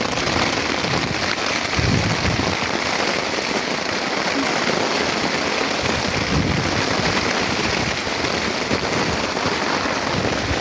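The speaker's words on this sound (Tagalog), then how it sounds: "Lakas ng ulan." Heavy rain pours steadily onto a camping canopy, a dense, continuous hiss with no breaks, loud and close throughout.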